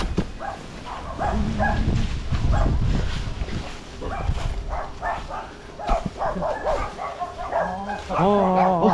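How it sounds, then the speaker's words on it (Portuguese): Dogs on a rural farm with horses bark a warning at night, loud and repeated in uneven bursts, with yelps and whines mixed in while people talk tensely nearby. "Os cachorros tá avisando."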